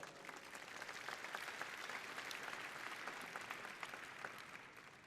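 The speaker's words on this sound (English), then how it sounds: "So give them a big round of applause." A large keynote audience at Cisco Live applauds continuously, a dense wash of many hands clapping that holds steady, heard from somewhat far off and fairly faint.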